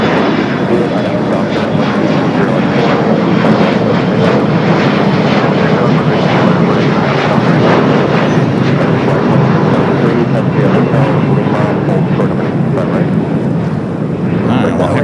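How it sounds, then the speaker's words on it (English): An Air Premia Boeing 787 Dreamliner jet airliner at Los Angeles airport, its engines a loud, sustained roar filling the whole stretch, with a voice talking over it. "here comes Air Premia, the Dreamliner that we saw arrive there on the north side"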